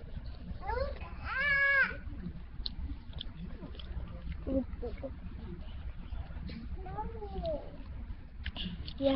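A cat meows twice, a quick pair of calls early on and another a few seconds later, over quiet background noise.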